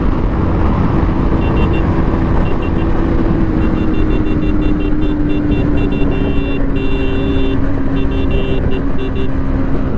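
A vehicle pulls hard up through third and fourth gear, its engine roaring loud and close in a steady, sustained drone, with the pitch shifting slowly as it revs and no talking over it.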